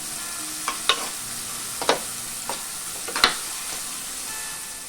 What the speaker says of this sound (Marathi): जरासं मीठ घालून आपण कांदा कोमवून घेऊया